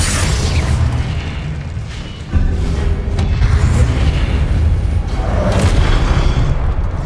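The Confringo spell explosion in the video game Hogwarts Legacy, a loud rumbling boom with a sharp burst partway through, over continuous low game rumble.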